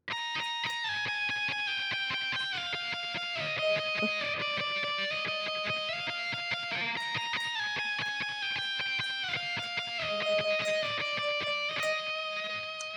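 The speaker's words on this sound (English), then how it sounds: "And that whole sliding section together sounds like this." A solo electric guitar plays a repeating sliding section, pitches gliding down in steps and looping back, steady and clear with no voices.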